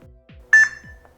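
A single electronic pairing beep from a Wuuk Wired Cam Pro V2 security camera, steady and clear, lasting about half a second, with faint low background sounds around it.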